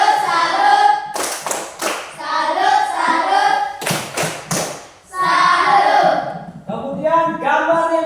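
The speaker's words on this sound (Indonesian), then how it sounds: "Tepuk salut untuk Rani." A school class claps a rhythmic cheer in short patterned bursts of sharp claps, with children's voices chanting between and over the clapping.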